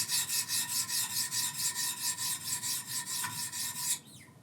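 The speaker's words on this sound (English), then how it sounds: "let me just take a slightly coarser stone, the 600 grit, and I'll do a few more strokes." Knife blade drawn in rapid, even strokes across a 600 grit sharpening stone, a close, loud rhythmic rasping of about sixteen strokes that stops abruptly near the end.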